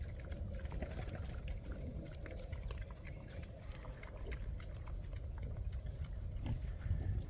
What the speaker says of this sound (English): I'm just letting you guys see the pigs.